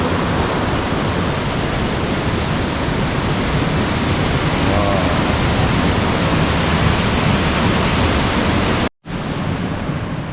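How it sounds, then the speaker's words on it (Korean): A waterfall in Baemsagol valley on Jirisan roars in a loud, steady broadband rush that holds unbroken for about nine seconds, then cuts out briefly before resuming. "폭포는 지금 쫄쫄인데요."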